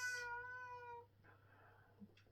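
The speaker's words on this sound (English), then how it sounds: "Taking notice of any noises, in this case my cat, Luna." A pet cat gives one clear, drawn-out meow lasting about a second, close and fairly quiet in a calm room, followed by faint rustling and a small soft sound.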